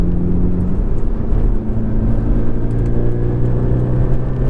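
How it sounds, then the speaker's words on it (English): A fun-to-drive car with a manual transmission and smooth clutch cruises along, its engine and road noise a steady close drone with no talk. "just overall such a fun car to drive"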